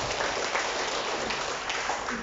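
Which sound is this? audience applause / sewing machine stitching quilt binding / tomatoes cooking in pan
audience applause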